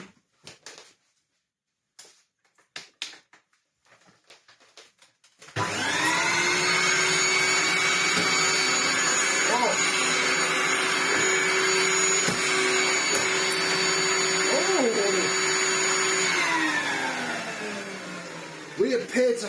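Blue Dyson DC01 vacuum cleaner with a suction-reducing clog switches on after several seconds of quiet handling noises, then runs as a loud, steady whine with a low hum for over ten seconds before winding down.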